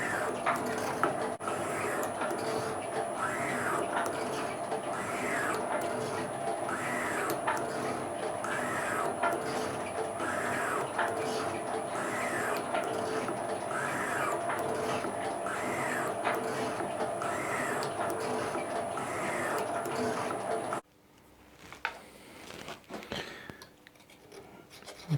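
A metal shaper machining a lathe part from steel stock, its ram stroking back and forth in a steady rhythmic scrape and clatter of repeated cutting passes, with a constant machine hum, before the noise drops away near the end.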